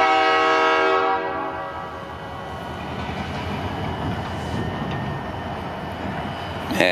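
A loud, sustained freight train horn blares at first, then fades into the heavy rumble and clatter of the passing freight train.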